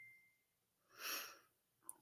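A single sneeze bursts out at mid-distance, loud and breathy, followed by a brief sharp catch of breath and otherwise quiet room tone.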